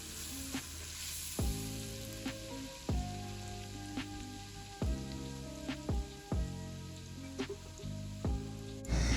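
Butter and olive oil sizzle steadily in a pan, a soft, even crackle broken by repeated sharp clatters of a utensil against the pan roughly every second.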